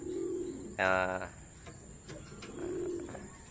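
Racing pigeons coo softly and close by, low rolling coos at the start and again near the end, broken by a brief sharper call in between.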